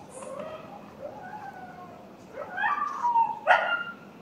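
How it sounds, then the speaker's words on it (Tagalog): A dog howls and whimpers, drawn-out rising and falling cries followed by louder yelping wails, fairly close against a quiet background. "Nag-aalulong na yung aso."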